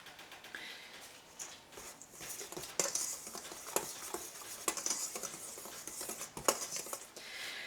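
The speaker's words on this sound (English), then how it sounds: "I am going to simply mix this well" Ground cinnamon, allspice and nutmeg are mixed in a bowl, giving faint, irregular ticking taps and light scraping of a utensil against the bowl. It is quiet and close, with no speech.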